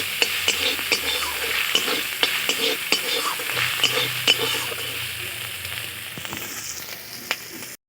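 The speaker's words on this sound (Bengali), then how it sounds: "গুগলিগুলো আমি ভেজে নিয়েছি, এবার তুলে নেব" Apple snails fried and stirred in a pan, a continuous sizzle broken by repeated sharp clicks and scrapes as the shells are turned, close and fairly loud.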